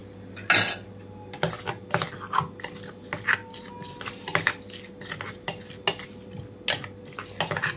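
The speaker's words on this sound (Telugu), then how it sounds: "అలాగే తాలింపు కూడా కలిపేసుకుంటున్నాను." A metal spoon stirs tempering into a cucumber and dried red chilli chutney in a bowl, making repeated scraping clinks against the dish in an irregular rhythm, close by, with one louder clatter near the start.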